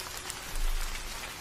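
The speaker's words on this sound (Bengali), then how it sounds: "আজ অসময়ে বৃষ্টি নামল।" Rain falling in a cartoon scene, a steady soft hiss of drops on surfaces with a brief low thump near the middle, alone and without voices.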